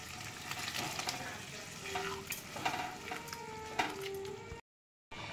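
Boiled peas added and stirred in a frying pan for ghugni: soft sizzling with scraping and clinking of a spoon against the pan, fairly quiet, cut by a brief silent gap near the end.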